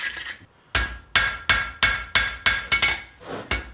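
A hammer strikes a hand-forged woodworking chisel on an anvil in a steady rhythm of about nine sharp ringing blows, close and loud, with brief pauses between them.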